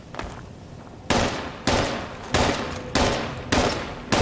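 Gunfire from the video game Fallout 76: a faint crackle, then five loud, sharp shots spaced roughly half a second apart, each with a short decaying tail.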